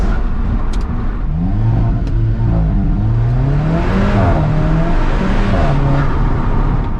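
An Alfa Romeo 4C accelerating hard, the engine note climbing through the gears in rising sweeps with brief dips at each shift, loud and close from inside the car.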